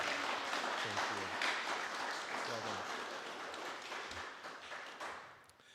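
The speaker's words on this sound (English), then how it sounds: "Let's give Lydia a big round of applause." Audience applause for a contest winner at a bluegrass-style music competition, a broad wash of clapping running steadily throughout, with voices talking and some tonal sounds mixed in underneath.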